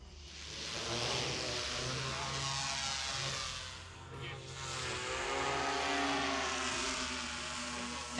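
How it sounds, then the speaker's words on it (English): A drone's propellers spinning up to full throttle, a loud sustained whirring buzz with shifting tones that swells, dips briefly, then rises again, close by with no talk. "As soon as the props spin up, it's going to be full throttle up."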